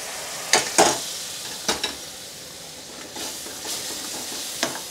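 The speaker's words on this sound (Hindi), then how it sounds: "ये जो मटन का सूप है थोड़ा थोड़ा डाल के हम मसाले को भून लेंगे" Masala spices frying in a pan with spoonfuls of mutton soup added for Khandeshi chikoliya, with a low steady sizzle and a few sharp spoon-scraping stirs spaced through, fairly close.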